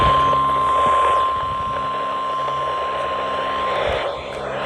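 A NOAA Weather Radio warning alarm test sounds as one steady, unbroken high tone lasting nearly four seconds, then cuts off over a constant low radio hum and static.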